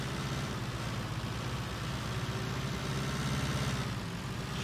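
A Massey Ferguson tractor in Farming Simulator 19 idles with a continuous, even low engine rumble that holds steady from start to finish with no talk.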